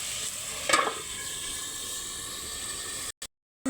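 Boiled bitter gourd and potato sizzle steadily in a pan with mustard and spices, a constant frying hiss with a brief louder flare early on, cutting off abruptly near the end.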